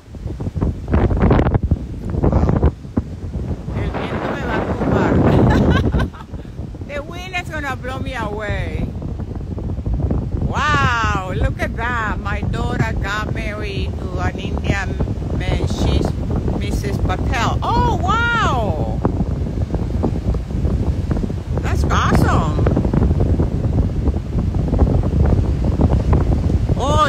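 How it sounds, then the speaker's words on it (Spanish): Strong wind buffets a camera microphone outdoors at sunrise, a loud continuous roar with gusts throughout, while someone talks over it. "Estoy tratando de poner la cámara, pero no me la... porque el viento es tan fuerte"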